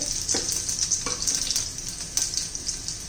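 Mustard seeds, cumin and garlic crackle in hot oil, a bright, steady sizzle with small popping bursts and a few soft clicks and stirs, close by and without speech.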